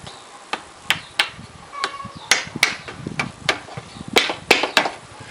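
Sharp metallic taps from a small hammer driving a wedge into a hand scythe, about a dozen irregular strikes close by, with faint handling noise between them.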